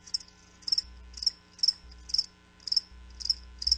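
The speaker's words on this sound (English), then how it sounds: "That's right, crickets." Crickets chirp in steady repeated bursts, about two pulses per second, close and clear over a faint low hum, with no talking.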